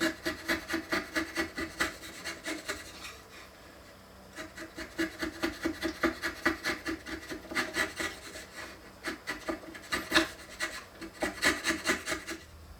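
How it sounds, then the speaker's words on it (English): A sharp chisel pares out grooves in wood in quick, rhythmic scraping strokes, close and dry, with one brief pause before the steady strokes resume. "I'm just going to get in there with a sharp chisel and let's clean those up"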